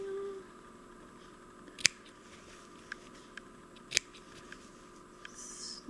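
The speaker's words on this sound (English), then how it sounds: "Snip all of those off." Sharp scissors snip the points off a sewn cloth pad in a few quiet, separate cuts, two of them distinct clicks and the rest softer, against a faint background hum.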